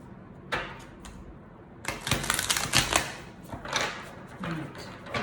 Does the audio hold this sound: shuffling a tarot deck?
yes